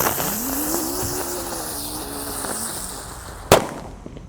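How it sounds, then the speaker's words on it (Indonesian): A red Terate Thor firecracker lights with a hissing, whistling fuse that wavers in pitch, then bursts in one sharp, loud bang followed by a short fading tail, set among Idul Adha festivities. "ini ada mercon Terate Thor yang warna merah. Kita nyalakan teman-teman."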